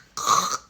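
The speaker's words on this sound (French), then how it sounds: "Pardon, excusez-moi, ça me fait une toux là" One short, dry cough, fairly quiet and close, heard alone.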